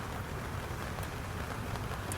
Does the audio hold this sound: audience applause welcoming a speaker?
no